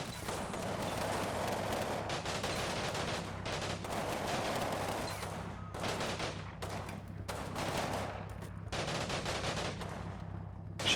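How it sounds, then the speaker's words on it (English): Battlefield gunfire from the video game Combat Mission Final Blitzkrieg, with rattling machine gun bursts and scattered rifle shots repeating throughout at a moderate distance, with short gaps between volleys. "Taking fire."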